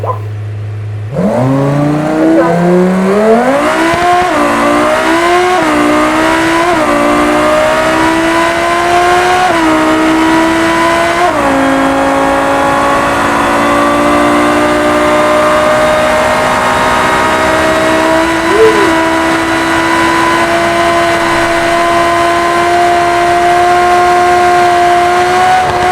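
A loud, fast car accelerates hard, its engine note climbing through several gear changes in rising whines before settling into a sustained high roar, close and with no talk over it.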